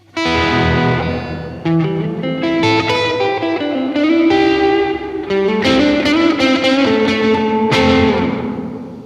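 An electric guitar run through a UAD Golden Reverberator plugin on its small room reverb program: bright, driven chords strummed in bursts, each ringing out with a short, tight room tail, loud and alone without any talk.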